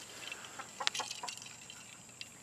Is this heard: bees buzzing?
no